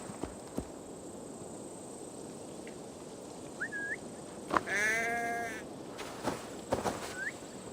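A sheep bleats once in Assassin's Creed Valhalla, fairly faint and distant, over a steady outdoor background with scattered soft clicks and bird-like chirps.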